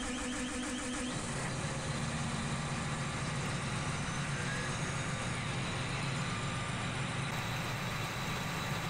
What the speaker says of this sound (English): Let's go ahead and move this tractor out of the way.